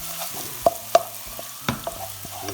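Onions frying and being stirred in a pan for Bengali aloo gobi, with a soft sizzle under a few sharp scrapes and knocks of the spoon against the pan, close and fairly quiet.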